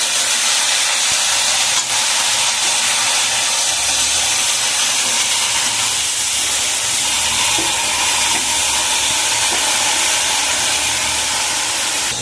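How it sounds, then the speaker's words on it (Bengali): Water is splashed into a hot pan of cooking pumpkin greens from a rooftop garden, and a loud, continuous steaming hiss and sizzle fills the whole stretch, close and steady. "জল দিয়ে দিচ্ছি। অল্প করে জল দিয়ে দিলাম।"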